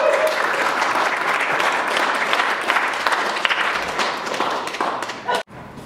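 Audience clapping at a café concert at Ditta Caffe in Salt Lake City, loud and dense with a steady wash of many hands, fading and cutting off abruptly near the end.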